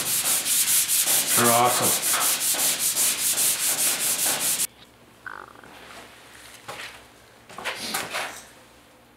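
A flexible sanding pad rubs along the curved edges of a 1956 Mercury truck cab in loud, steady back-and-forth strokes for several seconds, then stops; someone briefly speaks over quieter handling sounds.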